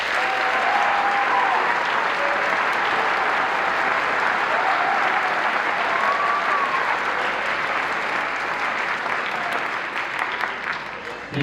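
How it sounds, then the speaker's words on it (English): Sustained applause from a school concert audience welcoming the director, a dense, even crowd of clapping hands with faint voices and scattered cheers mixed in, tapering slightly near the end. "a big round of applause for our director"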